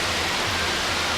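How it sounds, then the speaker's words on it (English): Rain falls at Milford Sound as a steady, close, uniform hiss with no voices over it. "It's raining, man."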